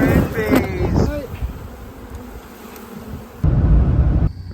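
Honey bees at a commercial apiary buzz in a steady drone near the hive, with someone briefly talking over it at the start.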